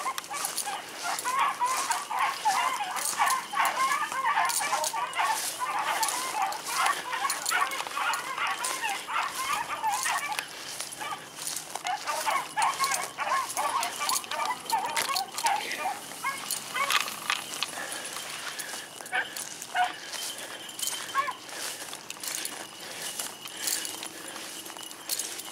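A dog barking repeatedly out in the woods during a beagle chase, sharp yelps and bays in quick bursts with brief pauses, fairly close and loud throughout.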